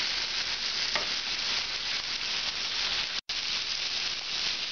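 Large pork pieces for Oaxacan mole sizzle and fry in a pan with a loud, steady hiss that barely pauses for a moment.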